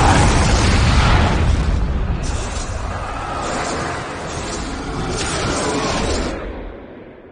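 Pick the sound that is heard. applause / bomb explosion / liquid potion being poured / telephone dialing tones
bomb explosion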